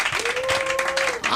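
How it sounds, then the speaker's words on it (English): An audience at an LA comedy school's Friday show gives a brief round of applause, a dense wash of claps over a sustained tone, fairly steady and moderately loud. "But give yourself a round of applause."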